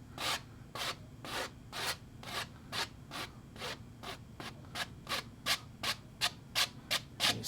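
A paintbrush scrubs paint onto a space-scene painting in repeated short strokes, a soft dry rubbing that grows quicker and more regular, heard close and quiet with no talking.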